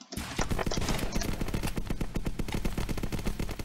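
Assault rifle fire in a video game, a long sustained burst of rapid, evenly spaced shots at close range, loud and steady throughout with no talk.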